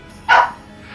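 A dog gives one short, loud, close bark, then the room goes quiet.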